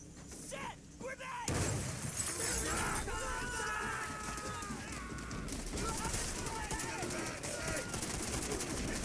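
Combat in Call of Duty: World at War with a loud burst at about 1.5 seconds, like a grenade blast, opening into dense, continuous battle noise of gunfire, debris and shouting voices.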